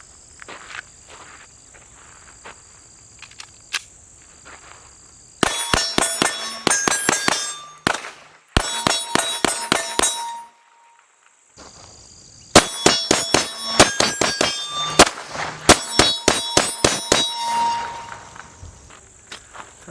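A Walther PPQ Q5 Match pistol firing Hornady Critical Defense ammunition at a range, two rapid strings of sharp, loud shots with ringing steel hits and a short pause between them.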